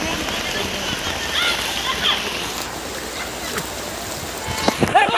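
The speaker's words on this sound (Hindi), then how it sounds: "यहाँ से कार निकल रही थी, इसको पूरा पानी में भिगा दिया" A car pushes through deep floodwater on an Assam road, throwing up a continuous rushing splash with sharper splatters near the end, loud and close.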